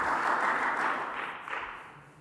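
An audience at an AI workshop claps together, a short burst of applause that swells briefly and then fades out.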